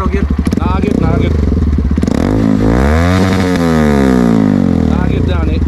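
A Honda CRF150L motorcycle with a remapped ECU revs up loudly and close, its engine rising and falling in pitch, while someone talks over it.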